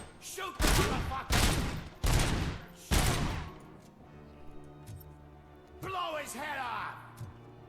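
Bursts of gunfire in the RoboCop: Rogue City video game, four loud rapid volleys in close succession, followed by quieter mechanical clanks and a voice speaking.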